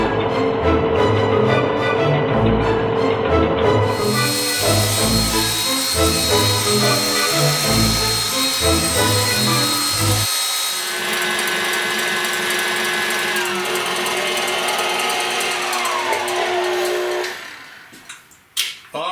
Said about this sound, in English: we're gonna whisk these till they're stiff peaks